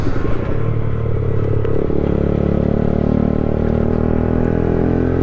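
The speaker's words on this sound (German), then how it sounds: "Aber ich wollte sie ja mit diesem Auspuff haben." A 50cc Aprilia scooter fitted with a loud aftermarket exhaust runs close by, giving a steady, buzzing two-stroke drone that stays loud and continuous throughout, with no speech.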